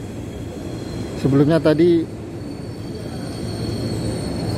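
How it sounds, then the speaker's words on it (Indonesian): The Argo Dwi Pangga long-distance train runs past near Manggarai Station as a steady, loud rumble of wheels and rails, with someone speaking briefly over it. "Bentar lagi akan melintas kereta jarak jauh Argo Dwi Pangga ini."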